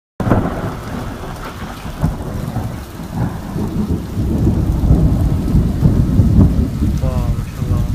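A heavy thunderstorm pours rain hard on surfaces while deep rolling thunder swells and grows louder toward the end, loud and close, with no voices heard.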